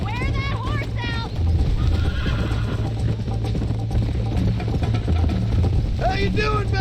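A horse in the video game Red Dead whinnies twice, at the start and near the end, over steady hoofbeats and a low droning background.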